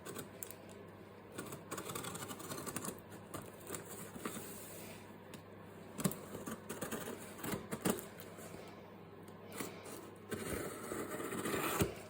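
A parcel being unboxed, with crinkly scraping and tearing bursts of packaging that come and go up close through a quiet room, no talk.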